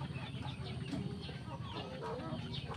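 Several chickens cluck and murmur continuously in a farmyard flock of backyard hens and roosters, a dense nearby chorus of overlapping calls with no talking.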